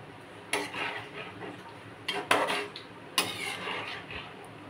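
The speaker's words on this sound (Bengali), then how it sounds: "এবার এটা নেড়ে আবার কিছুক্ষণের জন্য চাপা দিয়ে দেবো।" A spoon scrapes and clinks against a metal cooking pot of chicken rezala in a few scattered strikes, followed by a lid knocking as the pot is covered, close and moderately loud over quiet room noise.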